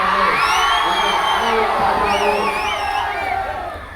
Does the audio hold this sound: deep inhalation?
no